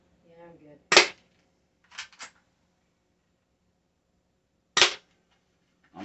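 A cheap UKARMS P618SB spring airsoft pistol fires BBs indoors in an apartment: three sharp snapping shots, one paired with a quick double crack of ricochet, separated by silence, with faint murmuring before the first.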